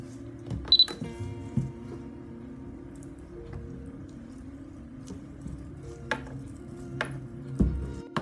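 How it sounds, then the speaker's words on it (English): A knife cuts through a block of melt-and-pour soap base on a hard surface, giving a few sharp, separate taps and chops spread through a quiet room with no talking. "first thing we want to do for this project is to cut down our melting pour base"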